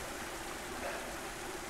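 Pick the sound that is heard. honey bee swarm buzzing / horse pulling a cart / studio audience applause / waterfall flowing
waterfall flowing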